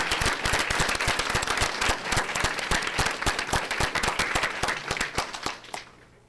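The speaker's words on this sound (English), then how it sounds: "I'd like to give them all a round of applause." A school board meeting audience applauds high school honor band students, with sharp, distinct claps standing out over a steady clapping bed, loud and close, then fading out quickly at the end.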